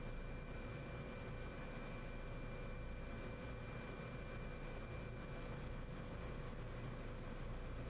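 A helicopter in a flight simulator game gives off a steady, even mechanical drone with a faint whine on top, unchanging and quiet throughout, with no voices.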